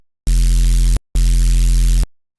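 Two identical sustained notes of a crunchy bass patch from the Serum 2 synthesizer with boosted white noise: a heavy buzzing low tone with a hissing noise layer, each lasting under a second, separated by a brief silence and cut off abruptly.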